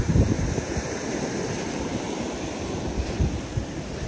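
Strong ocean waves churn and wash steadily around people wading out to fish, a dense close rush of surf with gusts of wind and no voices.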